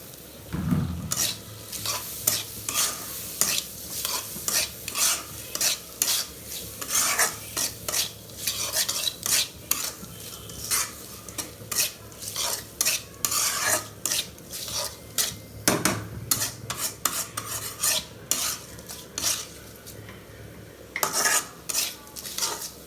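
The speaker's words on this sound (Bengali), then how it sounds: "এখন আমি চিংড়ি মাছগুলো মশলার সাথে ভালো করে কষিয়ে নেব।" Prawns being stir-fried with spice masala in a pan, with repeated sharp scrapes and clinks of a metal spatula against the pan over a low, steady sizzle. The strokes come in irregular bursts, close and loud.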